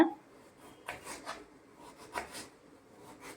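A knife slices Malabar tamarind (kodumpuli) fruit into medium pieces, giving several soft, close scraping cuts at an irregular pace with quiet gaps between them.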